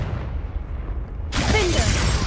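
A Confringo fire curse bursts in Hogwarts Legacy, a sudden loud fiery whoosh-boom that erupts partway through and sustains as a broad roar, following a quieter rumbling stretch.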